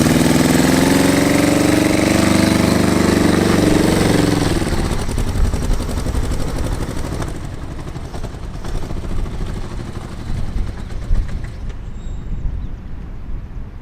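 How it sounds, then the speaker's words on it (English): An old Honda motorcycle engine that sat flooded for years revs hard and loud up close, a rough roar that falls away into a lumpy, sputtering idle with uneven pops. "Crank that hog! That is a gutless engine."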